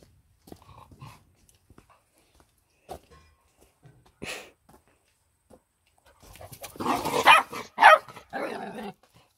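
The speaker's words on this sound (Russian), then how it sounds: "Они вот так играют. Ну, у собак обычно вот такие игры." Two young Labrador dogs at play yip and bark in short bursts between quiet pauses, growing busier and louder toward the end, close by.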